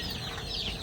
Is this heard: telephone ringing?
no